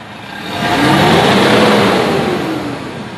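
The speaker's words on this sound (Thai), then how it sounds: "สตาร์ทเครื่องเลย สามพันรอบ" Toyota Vigo pickup engine revved up to about 3000 rpm, rising to a loud steady drone, holding briefly, then easing back down, close by.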